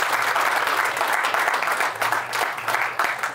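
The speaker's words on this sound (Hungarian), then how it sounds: "egy nagy tapsa" An audience gives a big round of applause to welcome an invited guest speaker, dense steady clapping that stays loud and even throughout with no voices.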